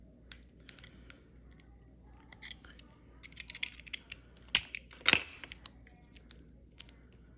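Scissors snip through a damaged, bulged GoPro battery in a series of quiet, close, irregular crisp clicks and cuts, with one louder crunching burst partway through.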